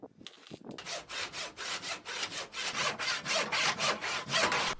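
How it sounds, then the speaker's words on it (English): A handsaw cutting through a thick wooden slab to finish a cut left by a circular saw, with rhythmic rasping strokes about three per second, close and steady, growing slightly louder toward the end. "so I've just got to finish the rest off with a handsaw."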